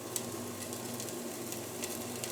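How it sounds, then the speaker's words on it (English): Garlic and ginger sizzle in a hot pot, a steady close crackle of frying with occasional brighter pops. "I'm going to put the garlic and ginger in first."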